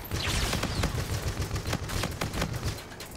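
Rapid automatic gunfire in Call of Duty: Infinite Warfare multiplayer, a fast run of close, sharp shots rattling in quick bursts over a busy game background.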